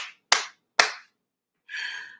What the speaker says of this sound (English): And there's 3 claps.